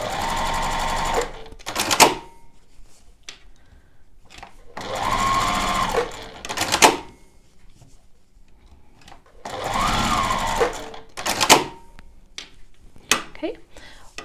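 A sewing machine runs in three bursts of stitching, each a few seconds long, as a quilt panel is stitched to batting with stitches about 3/8 inch apart; short clicks and handling noises fill the pauses between runs.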